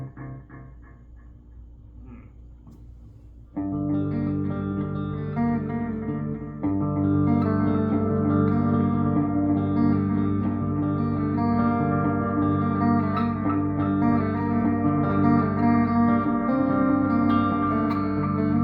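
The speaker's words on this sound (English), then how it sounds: "So feedback, I'm going to put the echo back at 12" Electric guitar played through a pedal combining chorus and delay, with the echo feedback set high, sustained chords swelling and smearing into long repeating trails, loud and continuous with no voice.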